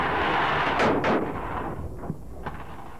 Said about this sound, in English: he definitely got off his first shot before this dummy got to the end of the track